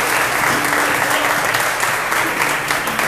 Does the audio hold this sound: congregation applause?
yes